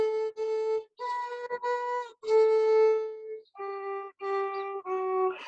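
A violin played timidly and quietly, a series of separate, hesitant sustained bowed notes with short gaps between them, clear and close with no talking.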